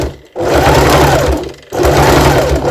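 A sewing machine stitches straight over pins left in the fabric, a loud steady mechanical whir that stops briefly near the start and again mid-way before resuming.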